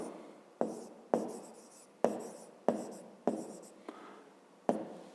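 Pen writing by hand on paper while working a fifth-grade maths exercise: close scratching strokes punctuated by about seven sharp taps as the pen meets the page, with no talk.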